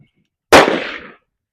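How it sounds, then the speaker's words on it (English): One loud, close rifle shot at a shooting range bursts out sharply and rings off in a short echo, with silence before and after. "we're just going to go ahead and shoot a set of 5"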